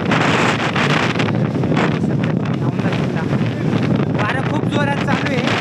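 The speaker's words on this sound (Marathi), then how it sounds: "वारं खूप जोरात चालू आहे, तर आवाज येत नसाल तर ॲडजस्ट करा जरा." Strong gusts buffet the microphone on a trek up Aundha fort near windmills, a loud continuous roaring rumble with fluctuating bursts throughout.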